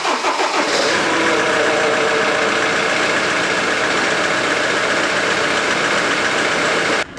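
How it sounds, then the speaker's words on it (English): A Land Rover Defender engine cranks and catches, then idles steadily and loudly up close, with a brief knock at the very end. "And I think it's time to see if it starts"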